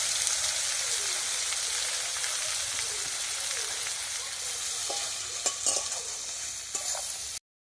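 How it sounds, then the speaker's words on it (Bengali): Chopped onions fry in hot oil with a dense, continuous sizzle, loud and close, and occasional stirring knocks near the end before it cuts off. "দিয়ে দিচ্ছি পেঁয়াজ কুচি।"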